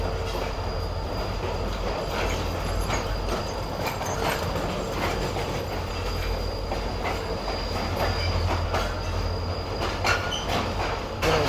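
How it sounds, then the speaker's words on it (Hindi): GMU locomotive 154817 moves up to take charge of the Sukkur Express, a steady loud rumble of rolling rail noise with wheel squeal and clatter running throughout. "GMU 154817 आ चुका है, आगे बढ़ रहा है सक्खर एक्सप्रेस का चार्ज संभालने के लिए जैकोबाद तक"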